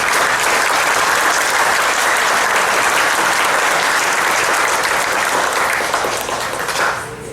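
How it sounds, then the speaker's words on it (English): Loud, dense applause from a Tea Party audience fills the room without a break, a thick wall of clapping that tapers off slightly at the very end. "You should give yourself a round of applause occasionally."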